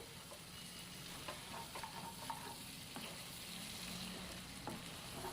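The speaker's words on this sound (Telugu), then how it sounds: "ఇప్పుడు ఇలా మంచిగా కలుపుకుంటూ చక్కగా వేయించేస్తున్నాను అంతే." Chicken fries in a pan with a little garam masala powder, a quiet continuous sizzle broken by frequent scraping stirs.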